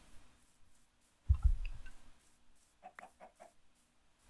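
A few short clucks from a single Minecraft chicken, rising out of near silence along with some soft clicking noises.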